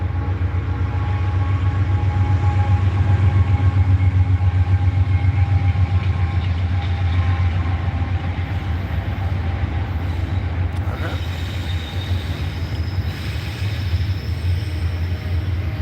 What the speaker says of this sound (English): The train's about to blow its horn.